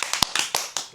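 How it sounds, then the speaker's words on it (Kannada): A few people clap briefly and unevenly indoors, about half a dozen sharp, close hand claps within a second. "ಚಪ್ಪಾಳೆ ಹೊಡೀರಿ."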